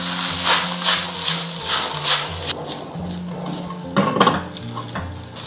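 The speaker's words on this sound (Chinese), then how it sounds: "炒香以后，我们下入酸菜，把这个酸菜炒一下会更香" Pickled mustard greens are stir-fried in lard in a pot, with a utensil clattering and scraping against metal in a steady rhythm over a faint, low sizzle.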